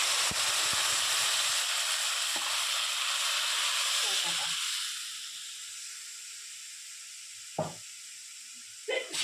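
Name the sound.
lentils poured into frying spices, sizzling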